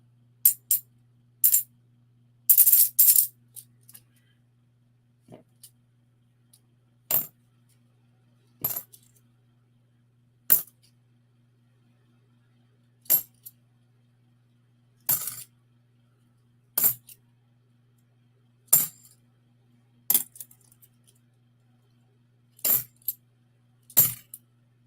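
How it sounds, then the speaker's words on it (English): Half dollar coins clink and drop in a steady series of sharp metallic hits, about a dozen spaced bursts with a few clustered jingles, close up over a faint constant hum, no voices. "Listen to the coins."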